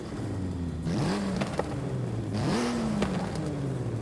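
A tuned Volkswagen Golf R pushed to 700 horsepower revs in Forza Horizon 5, its bassy engine climbing and dropping in pitch through two short pulls, loud and close with no talk.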